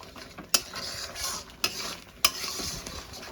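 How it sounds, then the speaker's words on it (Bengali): Spinach sizzles as it is stir-fried with spices in a pan, a steady hiss broken by three sharp scrapes of a utensil against the metal. "এবার পালকটা দিয়ে আমি মশলাটার সঙ্গে কষিয়ে নেব।"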